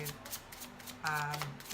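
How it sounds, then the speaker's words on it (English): Tarot cards being shuffled by hand, a couple of quick riffling bursts close up with a brief pause between them, no talk. "I have to shuffle the cards"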